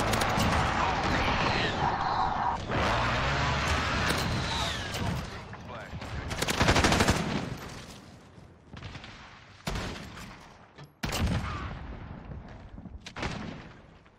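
Gunfire crackles in bursts during a first-person shooter match with the M4 rifle, loud close shots followed by scattered sporadic reports, with a player talking over the action.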